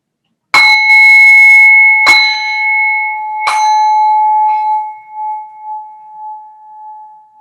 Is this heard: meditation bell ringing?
yes